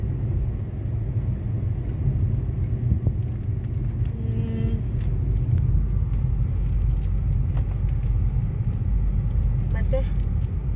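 A car is driven through a forest area with a steady low engine rumble and road noise, mixed with wind buffeting the microphone. Voices can be heard faintly inside the car.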